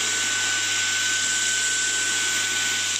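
A Dyson vacuum cleaner runs steadily on carpet, its loud continuous whirring motor with a high whine holding unbroken throughout.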